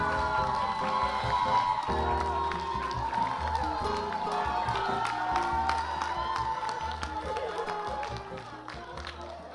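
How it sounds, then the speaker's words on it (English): A theater audience roars with sustained cheering, clapping and scattered whoops after the directors are introduced. The dense crowd noise holds steady and loud throughout. "Oh, wow, that was an enormous amount of cheering."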